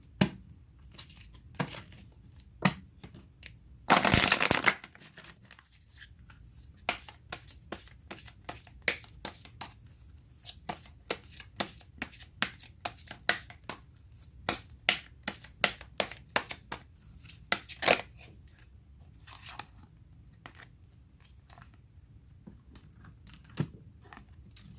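Tarot cards are shuffled by hand, with a dense riffling burst early on followed by many sharp snaps, flicks and soft rustles at close range.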